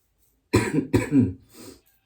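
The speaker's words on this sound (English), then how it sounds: "First cough of the video." A short pair of dry coughs, close and fairly soft, followed by a quieter throat sound.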